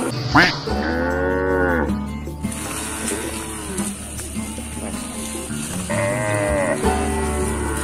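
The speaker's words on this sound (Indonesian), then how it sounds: "Inilah seekor bayi limosin yang terperangkap di dalam kandang saat banjir berhasil dievakuasi." A young Limousin calf trapped in a flooded pen moos loudly several times, long drawn-out calls with pauses between them, close by over a steady background hum.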